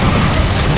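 A loud, dense explosion blast in the video game Borderlands: The Pre-Sequel fills the whole moment with a heavy rumbling boom and crackling debris, with no talking over it.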